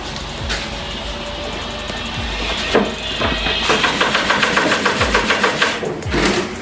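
Boilie rolling machine running steadily with a clattering, rhythmic mechanical churn, close up, with occasional heavier thuds as the bait drops.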